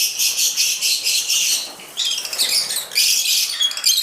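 Lovebirds in a large aviary setup, including Fischer's and other varieties, chirp in a dense, continuous high-pitched chatter of overlapping calls, close and fairly loud with no talk.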